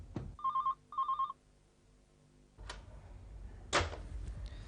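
A telephone bell rings in two short, bright bursts near the start, followed by quieter handling knocks and thumps in an indoor room.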